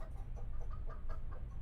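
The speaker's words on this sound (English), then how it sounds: "What's that noise? Our chickens, Henny, Penny, and Maxine." Chickens clucking in a Law & Order video game scene set in New York, several short repeated clucks over a low background hum, moderately close.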